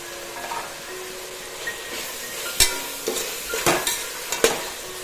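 Tomatoes sauté in a pan of jackfruit biryani masala with a steady low sizzle, and sharp scrapes and knocks of a stirring spoon break through at irregular intervals.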